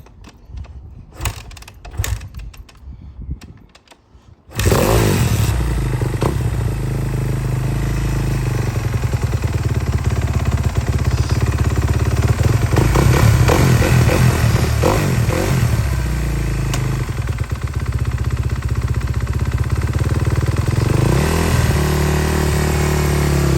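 2014 Kawasaki KX250F dirt bike engine firing up after some clattering handling, then idling loud and close with a rough, steady four-stroke rumble and occasional blips of the throttle.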